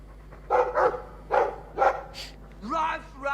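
A dog in the video game Dragon Age II barks several times in a row, loud and close, with a short whine or voice sound at the end.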